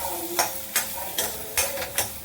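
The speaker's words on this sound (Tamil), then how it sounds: "இந்த காலிஃப்ளவரை லேசாக ஒரு பரட்டை பரட்டிக்கலாம்." Cauliflower is lightly stir-fried in a pan for a coconut chutney, giving a low steady sizzle broken by five rhythmic scraping strokes of a spatula, close and fairly loud.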